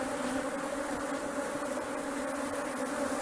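A swarm of agitated Apis honeybees buzzing around a hive, a steady dense drone that fills the air close to the microphone, with no talking over it.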